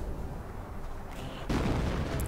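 Howitzer artillery fires in a Company of Heroes match on the Langres map: rumbling battle noise with a sharp, louder blast about midway that stays heavy through the rest.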